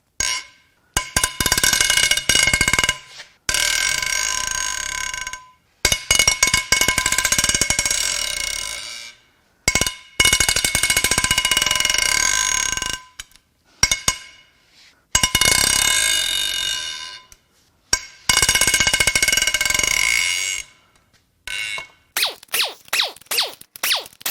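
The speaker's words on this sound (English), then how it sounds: "These are some of the loudest head bolts." Rapid mechanical clicking from a ratchet loosening the head bolts on a damaged Infiniti VQ35HR V6 from a 2017 Q50 Hybrid. It comes in loud, close bursts of several seconds each, separated by brief silences, with quicker short clicks at the end.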